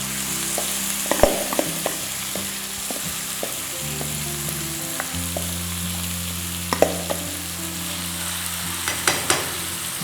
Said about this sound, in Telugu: అంటే బాగా ఫ్రై అవుతున్నాయని తెలిసిన తర్వాత ఇందాక మీరు మ్యారినేట్ చేసి పెట్టుకున్న చికెన్ అంతా దీంట్లోకి